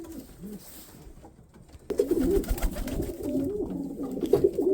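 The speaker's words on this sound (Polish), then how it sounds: "Gołębie są jeszcze przed karmieniem." Pigeons coo in a loft before feeding, first softly, then in a louder overlapping chorus of repeated rolling coos nearby.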